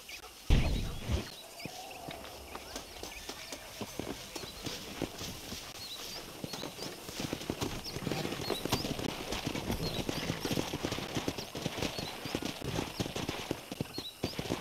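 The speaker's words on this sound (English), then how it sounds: "Let's see if we can't wrangle some horses." Horses in the video game Red Dead Redemption give off soft, steady clip-clop hoofbeats on a ranch. The hooves are fairly quiet and continuous, with one sharper knock near the start.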